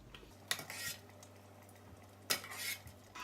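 A big spoon clinks against a glass jar while scooping chunky fig jam, two sharp scraping knocks with softer wet scraping between them, close and moderately quiet, no speech.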